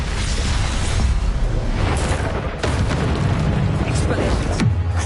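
Repeated Confringo blasting-spell explosions from Hogwarts Legacy, booming bursts that stay dense and loud throughout, layered with game noise and rumble, with a sharper burst near the end.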